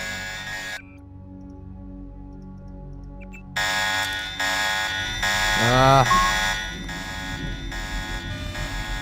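A repeating electronic alarm tone from the Deus Ex video game sounds steadily throughout, loud and continuous, with game sound effects and a brief sweeping tone partway through.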